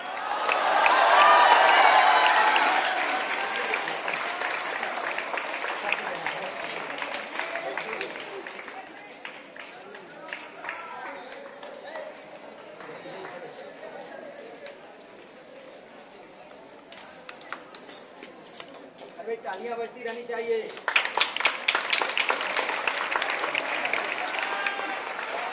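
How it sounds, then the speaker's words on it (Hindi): An audience at a prize distribution claps in a loud burst that fades to scattered applause, with a voice speaking over a loudspeaker, before another strong round of clapping swells near the end. "तालियां बजती रहनी चाहिए।"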